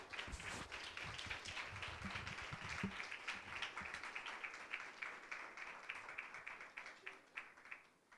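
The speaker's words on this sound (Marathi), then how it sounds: "पुन्हा एकदा टाळ्या वाजवूयात" A church congregation applauding, with sustained clapping from many hands that gradually thins toward the end.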